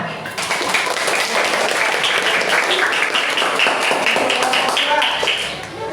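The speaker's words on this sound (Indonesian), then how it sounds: "Tepuk tangan." A classroom of students claps their hands together, a dense continuous patter of many small hands sustained for several seconds.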